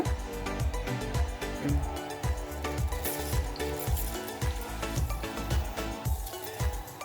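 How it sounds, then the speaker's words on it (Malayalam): Mustard seeds crackling and popping in hot coconut oil in a pan, a dense close sizzle with rapid sharp pops repeating steadily throughout, loud and with no talk. "ഇനി കടുക് പൊട്ടിച്ചെടുക്കുക"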